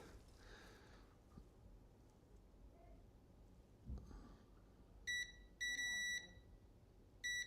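Faint handling noises, then a series of high electronic beeps in short bursts from a multimeter continuity test on a watch printhead, one long continuous tone among them, close and clear.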